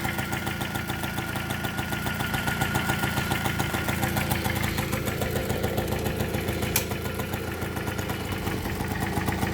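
Stock 1980 Vespa Piaggio Grande moped engine idling close by, a steady, fast ticking putter that stays even throughout, with no one speaking.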